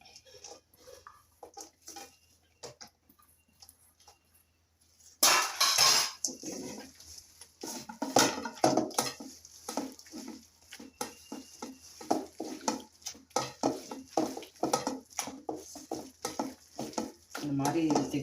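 Broken egg being stirred together with chopped small onions (shallots) in a bowl, close-up, for a home-style Tamil curry dumpling recipe: a steady run of quick scraping clinks of utensil against bowl follows a quiet start, with no talk.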